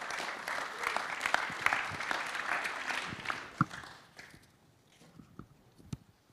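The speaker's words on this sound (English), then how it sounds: "So round of applause for Nick" A small audience claps to welcome a guest on stage, moderately loud at first and thinning into scattered, fading claps.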